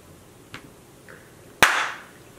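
A single sharp hand clap rings out close and loud in a quiet room, with a faint earlier tap before it and a short decaying tail after.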